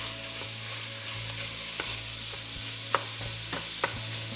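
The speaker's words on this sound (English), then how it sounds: "I want to scrape up all the brown bits that are forming down here in the bottom from this meat" Ground meat browns and sizzles in a pan for lasagna while a utensil scrapes the browned bits off the bottom, a steady quiet fry with a handful of sharp scraping and tapping strokes and a low hum underneath.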